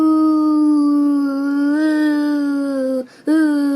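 A reader's voice imitates a hippo's groan during a read-aloud children's story, holding one long, loud, steady moaning tone with strong harmonics and a short break near the end before it resumes.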